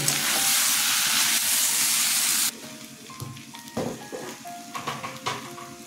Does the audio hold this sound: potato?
yes